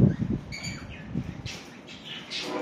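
Birds in an aviary holding royal pigeons give bright, scattered chirps that grow denser in the second half, over a few soft low thumps near the start.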